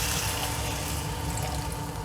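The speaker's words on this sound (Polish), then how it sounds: "Ja tutaj mam litr wody i wlewam całą tą wodę do mojego garnka." A liter of water pours into a cooking pot on the stove for kimchi soup, making a continuous loud gushing, splashing rush for about two seconds with no talk over it.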